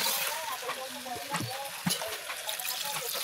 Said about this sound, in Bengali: আর এই দেখো মাংসটা কষাচ্ছি, মাংসটা প্রায় কষানো হয়ে গিয়েছে।